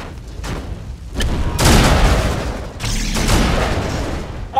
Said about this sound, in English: Commence firing.